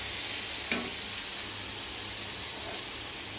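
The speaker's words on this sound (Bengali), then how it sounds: "এদিকে পটল ভাজা হচ্ছে" Pointed gourd (potol) fries in a pan with a steady close hiss and sizzle, one faint clink of a utensil near the start, and no talk.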